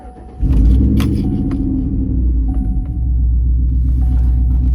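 A truck's engine kicks into a hard pull, a sudden loud, deep rumble that stays heavy and steady for several seconds as it accelerates.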